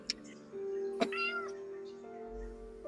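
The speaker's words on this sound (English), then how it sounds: "Did I just hear a cat?" A cat gives a short meow close by, rising and falling over about a second, surrounded by quiet room sound and a faint voice.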